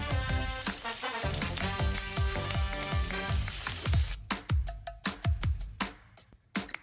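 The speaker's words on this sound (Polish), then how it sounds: "Wszystkie składniki smażymy około pół minuty." Pasta sauce ingredients, including sun-dried tomatoes, parsley and artichokes, sizzle in a frying pan while being stirred, with repeated scraping strokes and sharp clatters over a steady frying hiss, close up.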